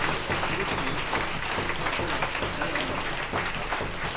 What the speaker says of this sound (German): Ich denke, die haben einen Applaus verdient